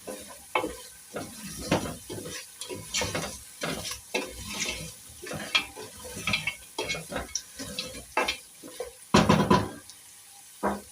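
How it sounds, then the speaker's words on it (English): Potatoes being stirred into cooked meat in a pot for pilau: repeated scraping and clattering strokes of a spoon at an uneven rhythm over a soft background sizzle, close and fairly quiet. "I have to put my potatoes. You have to mix them."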